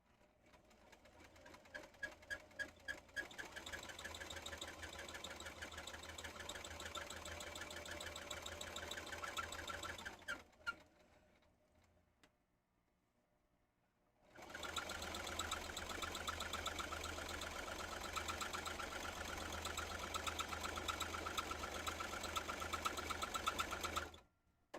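A sewing machine stitches fabric in fast, even bursts with a steady rattling whir, stopping for a few seconds midway before running again just as steadily, fairly quiet overall.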